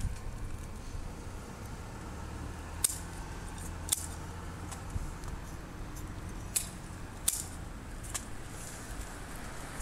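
Pruning shears trimming a Kaizuka juniper outdoors, faint scattered snips spaced a second or so apart over a low steady background hum.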